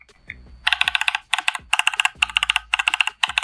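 Idobao ID80 V2 mechanical keyboard with lubed switches, aluminum body and thick acrylic bottom, typed on up close, bursts of crisp, fairly high-pitched clacks in quick rhythmic clusters with short pauses between them.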